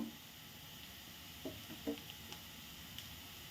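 Spices such as Kashmiri chili powder sizzle in a pan on a medium flame while making an Kerala-style egg fry, a faint, steady hiss with a few soft stirring scrapes.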